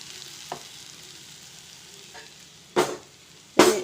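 A spoon stirs and mixes vegetable curry with chaat masala in a hot pan, giving a few scraping strokes over a faint steady sizzle, with the last two strokes louder and closer.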